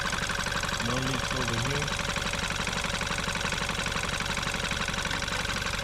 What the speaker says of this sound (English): So the engine runs.